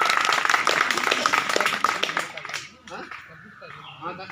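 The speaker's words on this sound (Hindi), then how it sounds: "उनके लिए जोरदार ताली।" Audience claps for two schoolgirls who are about to receive awards from the Governor, loud dense applause at first that fades to scattered claps with voices after a couple of seconds.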